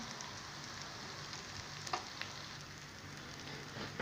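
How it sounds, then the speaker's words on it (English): Onions browning in a pan give off a quiet, steady sizzle with a few small crackles and pops, heard alone and fairly close. "I'm just going to brown these onions"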